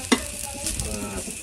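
Food frying in a pan with raisins among the ingredients, a close crackling sizzle with a sharp utensil knock at the start and light stirring scrapes after.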